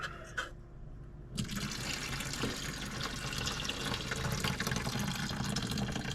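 Water runs steadily from a small sink tap, a continuous close splashing flow that starts abruptly after a brief quieter moment and carries on alone for several seconds.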